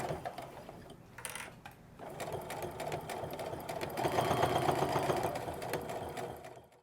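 A sewing machine stitches around the foam-padded edges of a fabric basket, a quiet, steady mechanical whirr with rapid needle ticking that swells slightly partway through.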